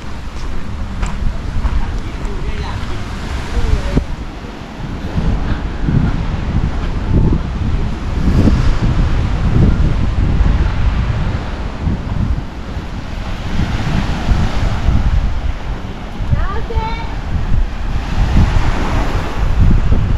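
Sea waves roll and break on a beach at Koh Samet island in Thailand. The surf is a loud, continuous roar with wind buffeting the microphone and a voice heard briefly.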